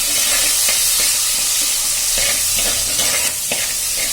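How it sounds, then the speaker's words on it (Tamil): Garlic sautéing in hot oil with curry leaves while preparing a dried ginger and pepper kuzhambu, a loud continuous sizzle and crackle with occasional stirring scrapes. "பூண்டை கொஞ்ச நேரம் எண்ணெயில நல்லா வதக்கிப்போம்."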